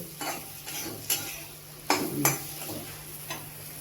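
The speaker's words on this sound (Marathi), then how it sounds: "आणि चांगले ह्याला परतून घेते बघा मसाला चांगला परतलेला आहे" A ground masala paste of peanuts, garlic and coriander is sautéed in oil and stirred, with rhythmic scraping strokes of a spoon against the pan over a low sizzle, close and alone.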